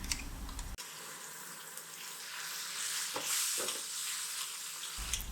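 Ground tomato paste, made from two blended tomatoes, is added to egg curry masala frying in oil, giving a steady close sizzle with a few soft stirring scrapes and no voices.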